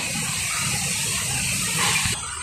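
Plain water poured into a vessel while making roti dough in a village kitchen, a loud continuous gushing rush heard up close that cuts off near the end.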